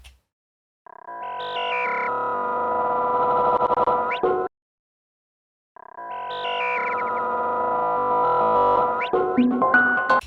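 Two sustained granular synth tones, each about four seconds long with a pause between, hum with a buzzy grainy texture that breaks into stuttering fragments at the end of each note as the grain size shifts.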